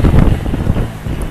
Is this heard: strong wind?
yes